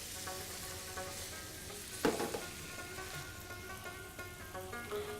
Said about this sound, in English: So now I'm pan frying the lamb chops.